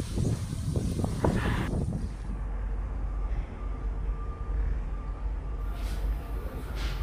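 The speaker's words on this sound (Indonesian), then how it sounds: "Angin cukup kencang rekan ya, debu berhamburan juga seperti ini kita lihat" Strong wind blows across a renovated stadium with dust kicking up, heavy buffeting rumble on the microphone throughout, gusting hardest at the start.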